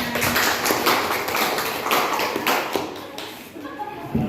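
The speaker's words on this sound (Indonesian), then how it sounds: "Tepuk tangannya mana?" A school class of children clapping their hands together in rhythmic bursts, loud and close, with children's voices mixed in.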